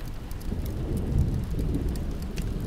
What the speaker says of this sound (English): A low rumble of thunder in the distance.